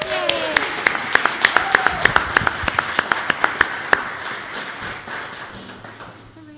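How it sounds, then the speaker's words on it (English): A small congregation at a worship service claps in a brief round of applause, with sharp distinct claps near the front that thin out and fade into quiet room tone. "we can clap for you"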